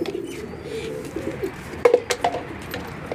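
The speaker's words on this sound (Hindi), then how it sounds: "जो कबूतर बीमार थे उनको मैं दाना दे चुका हूँ" Pigeons, including sick birds being fed alongside wild pigeons, give a few short coos and calls near the end, close and fairly clear over a steady low background hum.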